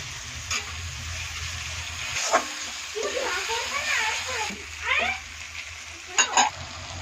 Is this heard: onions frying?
yes